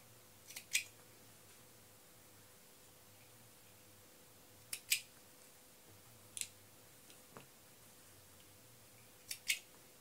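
Scissors snipping the thread between sewn fabric pockets of an Advent calendar. Soft, quiet, close cuts come in small scattered pairs across a hushed room, with long pauses between them.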